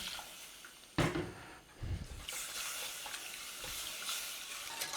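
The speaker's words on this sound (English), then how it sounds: "So we just give it a little stir" Milk being stirred into a moussaka sauce in a pan, a soft liquid swish and faint sizzle with a couple of louder scrapes against the pan, close and steady.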